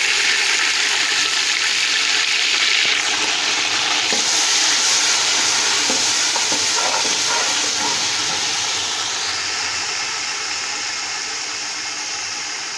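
Loud, steady sizzling and hissing as water is added to browned onions in a hot pan, a burst of steamy frying that slowly settles, with no talking.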